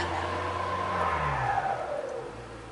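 Cars pass along a road at a raccoon feeding spot in the evening, a steady engine and tyre drone that swells and fades across the moment with no voices.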